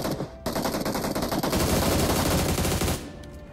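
Rapid automatic gunfire in the PUBG battle-royale shooter, a dense, loud burst of rattling shots sustained for about three seconds before cutting off, close and alone without talk.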